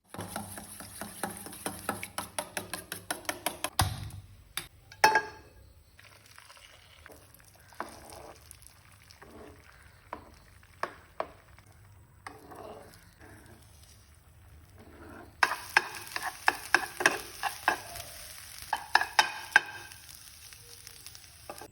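Eggs being scrambled in a pan with salt and pepper for a butter garlic egg dish made without butter: a low sizzle with scattered clicks and scrapes of stirring, busier and louder at the start and end.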